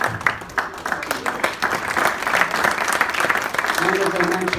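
A Rotary Foundation audience breaks into a round of applause for donors, clapping building quickly and continuing at moderate loudness, with a voice speaking briefly over it near the end.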